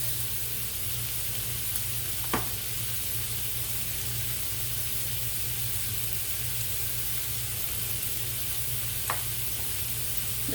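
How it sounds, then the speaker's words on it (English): Seasoned food with garlic powder, salt and onion sizzles softly and steadily in a pan. Two brief knocks of a utensil break a low, continuous background hum. "And we'll just stir that in."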